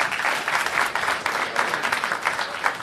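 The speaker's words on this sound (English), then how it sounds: "Give a round of applause to Joe Romano" An audience applauding for Joe Romano at a Dominican Republic 180th anniversary celebration, dense steady clapping from a crowd, close and sustained for the whole stretch with no talk over it.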